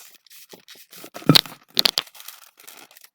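Latex balloon being pinch-twisted while shaping a balloon key: sharp squeaky rubbing and stretching bursts, two louder clusters amid softer handling noises, close up with no talk.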